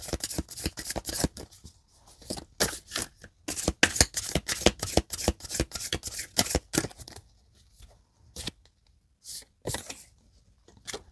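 Tarot or oracle cards being shuffled by hand, a rapid run of close crisp riffling bursts that slows into sparser, separate flicks toward the end.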